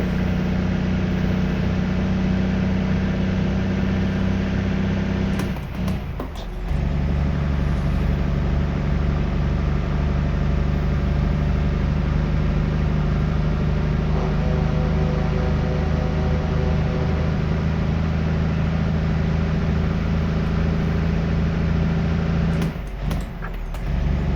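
A big rig's diesel engine idles with a deep, steady rumble in American Truck Simulator. It runs close and loud, with no talk over it, and a couple of brief knocks or shifts break the drone.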